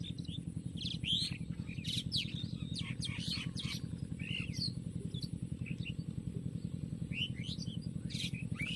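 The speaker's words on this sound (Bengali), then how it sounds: "পাখিদের গান, পাখিদের কিচিরমিচির," Birds in a village chirp and sing in quick, scattered high calls throughout, layered over a steady low engine-like drone.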